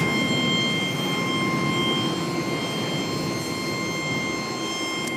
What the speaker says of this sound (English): Let's get a nice close-up roll by of the 787 Dreamliner